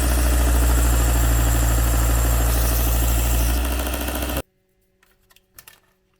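A bench polishing and sanding machine in a workshop hums loudly and steadily for about four seconds, then shuts off abruptly, leaving near silence with a few faint clicks and knocks.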